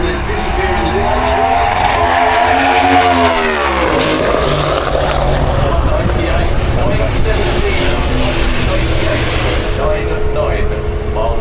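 A drag racing car launches at Santa Pod with tyre spin off the line, a loud, continuous engine roar that rises and fades into the distance, with a commentator talking over it.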